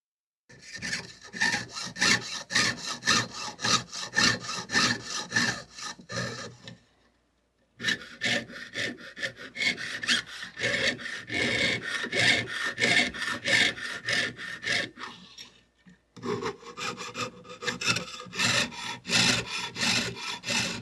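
Hand-sawing through bronze, copper or silver sheet with a fine blade, a rapid steady rasping stroke rhythm close to the mic, broken by two short pauses before the cutting resumes.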